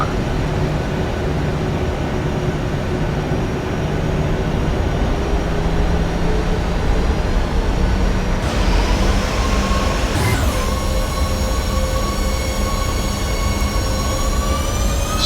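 Jet airliner engines spool up to takeoff thrust in a flight simulator, a loud steady roar with rising whining tones that shift upward partway through and keep building.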